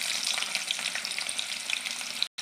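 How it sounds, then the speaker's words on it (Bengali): Chopped onion hits hot oil in a wok, giving a steady loud sizzle and crackle with small pops, close and continuous, briefly cut to silence near the end. "প্রথমে আমি পেঁয়াজ কুচিয়ে দেবো।"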